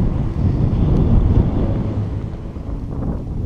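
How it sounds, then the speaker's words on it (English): Strong, steady wind gusting across open ground on Adak Island in Alaska's Aleutians, a loud continuous low rumble and roar buffeting the microphone for the whole stretch, with no talking. "And this is the Adak wind."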